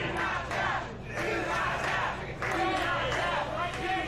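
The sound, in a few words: wrestling crowd shouting encouragement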